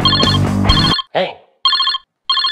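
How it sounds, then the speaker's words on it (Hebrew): A telephone rings in short electronic bursts with gaps between them, after a loud burst of music and a brief voice; the rings are clear and close. "צלצול טלפון"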